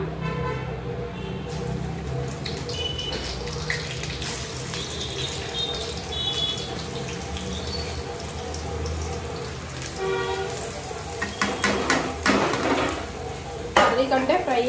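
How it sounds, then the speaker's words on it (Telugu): Bitter gourd frying in a generous amount of oil in a pan, a steady soft sizzle with occasional stirring and scraping sounds that grow sharper and louder near the end. "కాకరకాయ ఫ్రై కదా, ఆయిల్ అయితే కొంచెం ఎక్కువనే పడుతుంది."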